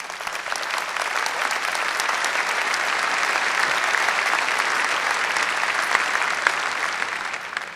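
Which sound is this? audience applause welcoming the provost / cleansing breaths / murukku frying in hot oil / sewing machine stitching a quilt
audience applause welcoming the provost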